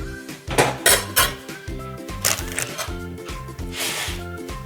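Dishes and cutlery clink and clatter during plating of shrimp tomato pasta, with a series of close metallic taps and scrapes in quick bursts over background music.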